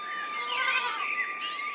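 Goats bleat in a short, high, wavering burst, heard alone and moderately close.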